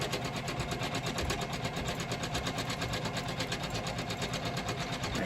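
A Janome MC500e embroidery machine sewing a satin stitch on a towel in a magnetic hoop, giving a fast, steady mechanical whir and rapid needle chatter up close, heard on its own.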